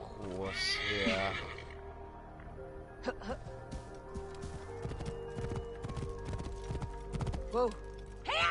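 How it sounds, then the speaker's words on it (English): A horse in the Assassin's Creed Origins video game gallops with steady, close clip-clop hoofbeats and neighs loudly at the start and again near the end, with a brief voice in between. "Let's get a horse here."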